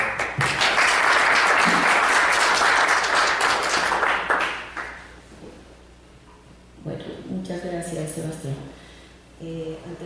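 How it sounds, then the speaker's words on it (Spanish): An audience at the opening of a philosophy colloquium at a School of Philosophy breaks into loud applause for several seconds; the clapping then fades and a voice begins speaking. "Fuertes aplausos, por favor"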